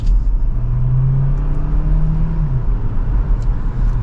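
A 2024 Hyundai Tucson Hybrid Limited accelerates from second gear, its engine droning steadily with a rising then levelling hum and road rumble underneath, heard from inside the cabin, loud and continuous with no talking.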